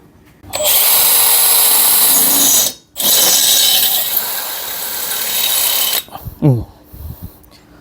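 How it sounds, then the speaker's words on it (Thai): A Makita DHP490 cordless hammer drill with a steel bit drills into steel, whirring loudly for several seconds, pausing briefly, then running again with a steady high whine before stopping, followed by a few clattering knocks. "ผมจะเจาะนะครับ ใช้ดอกเจาะเหล็กนะครับ"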